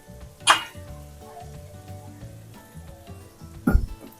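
Raw mutton dropped into a pan already frying chicken and tomatoes for biryani, two sharp clattering hits with a steady low sizzle between them, close and fairly loud.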